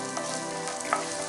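Cashew nuts frying in melted ghee over a medium flame for a custard payasam, giving a steady, close sizzling crackle with a few brief pops and no talking.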